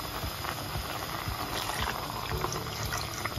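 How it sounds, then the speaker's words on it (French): Water goes into a pot of simmering rabbit soup with a continuous close bubbling, pouring wash, and light splashy patter over a few seconds. "Et je vais rajouter de l'eau."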